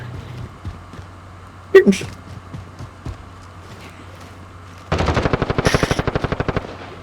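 A mounted MG turret in Call of Duty Warzone rattles off a long, rapid burst of loud, evenly spaced shots that ends the stretch, following quieter scattered in-game impacts and movement.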